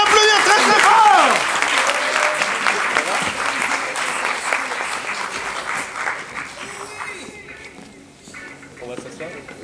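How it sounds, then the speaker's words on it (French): An audience at an improv theatre show in Paris applauds the performers, a dense burst of clapping that starts loud and slowly thins out, with a few voices and whoops mixed in. "On peut les applaudir très très fort"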